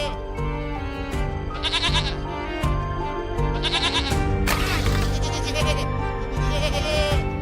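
Several goats loaded in a tempo (small cargo vehicle) bleat loudly and repeatedly in overlapping, quavering calls, close by over a dense music-like background bed.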